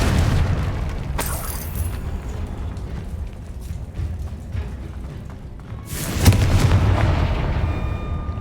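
Confringo spell blasts in Hogwarts Legacy, two loud fiery explosions several seconds apart, each a sharp burst followed by a deep rumbling roar, over a steady booming game background.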